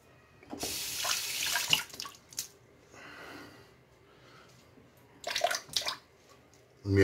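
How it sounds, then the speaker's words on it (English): Tap water runs in short gushes onto a tub of Connecticut Yankee shaving soap, a strong splash at first, then softer bursts and a final pour, with quiet gaps between. "Let me add some water, more water to this."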